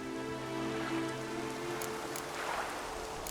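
Steady rain in The Witcher 3 video game patters on a surface, a soft continuous hiss with faint scattered drops, fairly close and even throughout.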